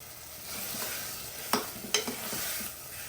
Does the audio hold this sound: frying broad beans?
yes